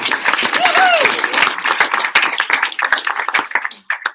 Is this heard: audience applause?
yes